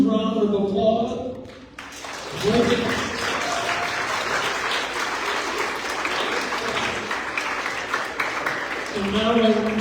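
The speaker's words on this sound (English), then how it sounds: "yourselves a huge round of applause" Sustained audience applause at a community gathering, dense and even for several seconds after a brief voice, with talking resuming at the end.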